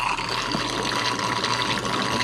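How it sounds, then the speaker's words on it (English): Water bubbling and gushing steadily from a homemade aerator in an IBC bait tank, a close, constant frothy rush with no pauses. "All those bubbles in there."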